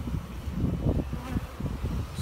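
Bees buzz around a Spanish tile roof, a steady close droning hum with no voices.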